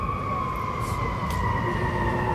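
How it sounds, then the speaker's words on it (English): An emergency vehicle siren wails steadily at moderate distance, its sustained tones holding across the whole stretch over a constant low rumble of background noise. "Whenever I hear sirens like that, I say, that's bad because somebody's in trouble."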